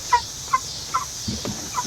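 A flock of about 20 backyard chickens near a coop make short, clipped calls, about five brief notes spaced evenly apart and fairly faint over soft background hiss.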